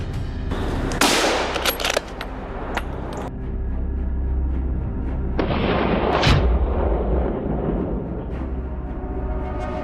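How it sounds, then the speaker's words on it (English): Loud gunshots from a wild boar hunt in a Florida forest crack out one after another, each a booming burst with a long rolling echo across open woodland. "From time to time, gunshots cracked through the forest"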